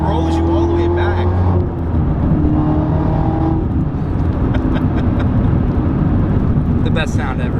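A 650-horsepower 2019 Chevrolet Camaro ZL1 1LE engine roars loudly through an underpass, with a heavy low rumble and rising harmonic tones that swell and hold, while people talk over it.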